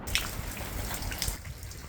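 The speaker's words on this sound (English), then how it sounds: "This is all that rain that I was talking about right here." Heavy Oregon rain patters and drips onto a flooded outdoor walkway, a close, steady wash punctuated by a few brighter splashing drops.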